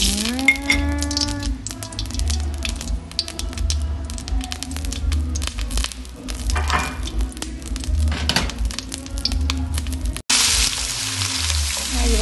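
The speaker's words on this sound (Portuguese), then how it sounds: "Você deixa a banha derreter no calor da panela e bota uma cebolinha e deixa ela até dourar." Lard melting and frying in a hot pan on the stove, a continuous crackling sizzle with bursts of spitting, plus a brief tonal squeak near the start and a clatter toward the end.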